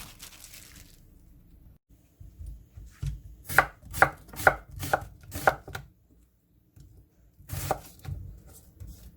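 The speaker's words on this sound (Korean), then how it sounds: "양파를 썰어줍니다" A knife slicing onion on a cutting board, a run of five sharp evenly spaced chops followed after a pause by a few more, close and crisp with no talking.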